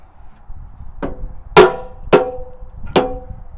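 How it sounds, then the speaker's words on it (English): Dead blow mallet striking a Nord-Lock expander pin on heavy equipment to knock it out: four sharp, solid knocks at uneven intervals, close and loud, with quiet gaps between. "if you hit it with a dead blow or a mallet"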